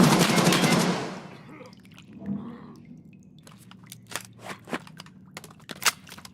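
Gunshots in Escape From Tarkov, a loud burst of rapid automatic fire at the start, then scattered sharp cracks and clicks after a quieter stretch.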